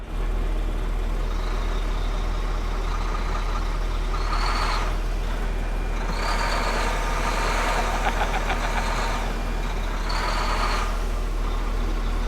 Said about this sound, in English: All right, we're gonna try it with Grant's truck